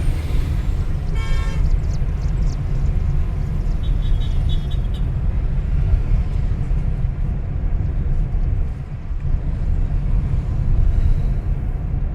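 A car engine rumbles steadily and loudly from inside during a driving lesson gear change, with a brief horn toot from traffic early on and a slight dip midway.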